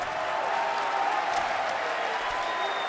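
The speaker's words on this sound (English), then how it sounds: "Now they're clapping." An esports tournament audience at a Call of Duty Major III event claps and murmurs in a broad, steady wash of crowd noise, moderately loud throughout.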